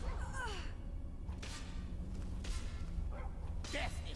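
A dog in the video game Skyrim barks and yips in a few sharp bursts amid game sounds, with thumps and a sigh nearby and voices over it.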